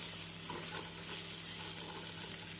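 Onions and green chillies sauté in a pan for cauliflower honey chilli, a constant close sizzle with faint stirring scrapes and no talk.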